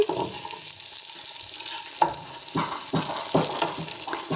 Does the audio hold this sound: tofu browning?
yes